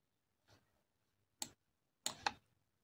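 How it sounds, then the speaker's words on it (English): Mouse clicks on a computer while selecting a virtual machine option: a soft click, then a louder single click and a quick double click, close and crisp in a quiet room. "I'm clicking OK."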